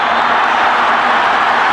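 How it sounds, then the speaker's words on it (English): Stadium crowd at a football match between Orlando Pirates and Tottenham Hotspur, a steady broad roar of distant cheering and noise filling the whole stretch without distinct peaks. "Crowd on the far side really starting to enjoy this now."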